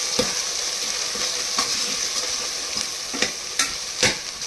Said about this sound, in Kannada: ಈಗ ಸ್ವಲ್ಪ ಫ್ರೈ ಮಾಡ್ಕೊಳ್ಳೋಣ